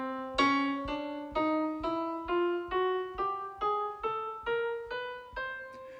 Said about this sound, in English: It's called a chromatic scale because I use all the white keys and all the black keys.